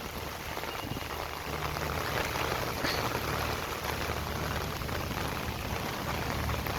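Steady rain pouring down in a flooded village, a dense, continuous hiss of drops striking water and surfaces, even and close with no voices.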